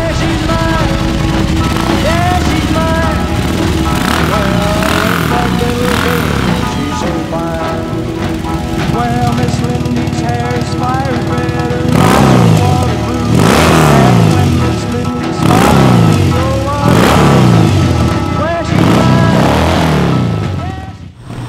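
A powerful BMW R 18 motorcycle engine rumbles under music, then revs repeatedly in loud rising bursts, close and throaty.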